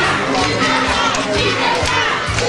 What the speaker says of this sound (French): On se lève pour acclamer le président.